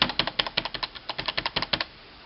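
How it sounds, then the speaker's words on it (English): Rapid typing on an HP USB clicky mechanical keyboard with Alps switches, a crisp, close run of about twenty sharp clacks in quick rhythm, then quiet. "The world's only USB clicky keyboard."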